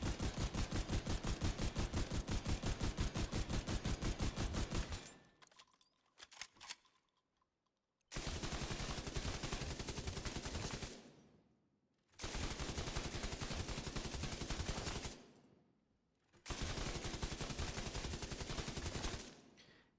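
Light machine gun fire in a video game: long rapid bursts of automatic shots with a steady rhythm, separated by short silent gaps, loud and close.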